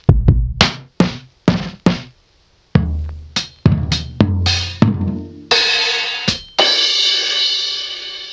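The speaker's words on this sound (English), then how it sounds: "just a quick preview of how the drums sound" A boom bap hip-hop drum pattern with added effects thumps through punchy kicks and cracking snares, with a brief gap of silence midway and a long washy, reverb-soaked tail near the end.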